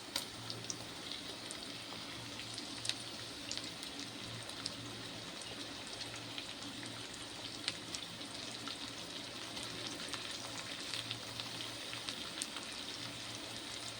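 Tomatoes fry in a pan for a tamarind kuzhambu made with ladies' finger. A continuous hissing sizzle runs evenly through the whole stretch, with no voices over it.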